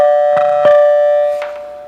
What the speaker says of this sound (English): the doorbell, which is a mechanical 2-note chime in here.